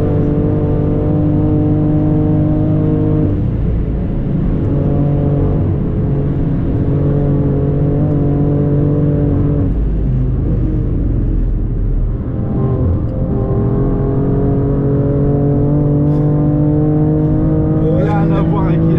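McLaren engine droning steadily at high revs while lapping the Nürburgring, a continuous loud in-car roar with pitch shifts at gear changes.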